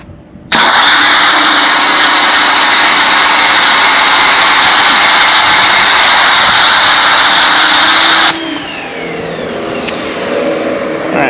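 Foam cannon spraying a car with a ceramic coating, a loud steady pressurized hiss that runs for about eight seconds and then cuts to a quieter, lower rush of spray.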